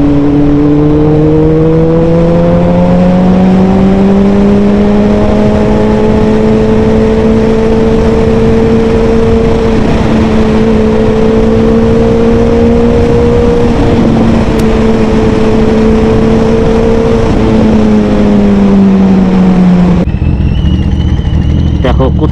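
A motorcycle engine drones loudly and steadily on a road ride toward Nabadwip, its tone rising and falling gently with the throttle before cutting off abruptly near the end.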